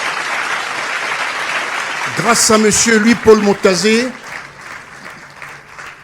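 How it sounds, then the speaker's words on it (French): Applause from an award ceremony audience runs steadily at moderate loudness throughout, with someone speaking over it in the middle and the clapping tapering off near the end. "S'il vous plaît, je demande qu'on applaudisse très fort."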